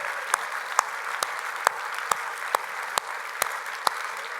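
An audience clapping hands together in slow, evenly spaced claps, about nine sharp hits standing out over a murmur of crowd noise.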